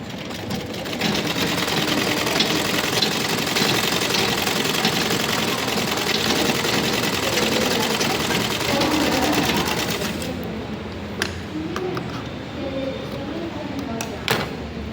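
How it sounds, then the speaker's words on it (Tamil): A sewing machine stitching a blouse runs as a loud, continuous close-up whir for about ten seconds, then stops, leaving quieter handling clicks and taps. "திருப்பிக்கிட்டு ஒரு நிமிஷம் இதுலேயே நான் கொஞ்சம் இன்னும் உள்ளார தையல் போட்டுக்கிறேன்"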